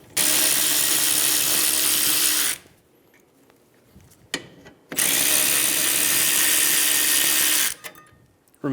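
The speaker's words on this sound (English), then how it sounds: "Using a 14mm socket, remove the caliper bracket bolts." Power tool with a 14mm socket spinning out the rear caliper bracket bolts on a 2007-2011 Toyota Camry: two loud, steady whirring bursts of about two and three seconds, separated by a quiet gap with faint clicks.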